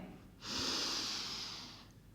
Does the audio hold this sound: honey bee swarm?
no